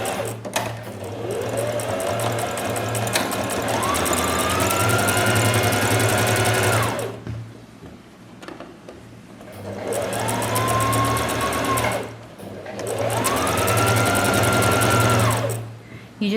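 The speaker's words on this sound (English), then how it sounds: "I'm going to feed it into my machine and sew a line of stitching along the two already stitched edges" A sewing machine stitches a line along the edges of an envelope pillow cover, running in about three sustained close bursts with short pauses between them.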